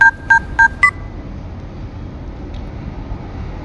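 Four quick telephone keypad dialing tones, evenly spaced and clear, followed by quiet room background with no talk.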